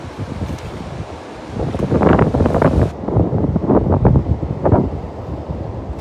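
Gusty wind roars and buffets close to the microphone in rising and falling surges beside a canal, with a faint rustle behind it and no voices.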